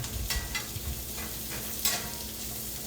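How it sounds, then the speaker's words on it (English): Mushrooms sauté in ghee and steak juice for beef stroganoff, a steady loud sizzle with occasional stirring scrapes, close and continuous with no talking. "we're going to saute them until they're lightly brown"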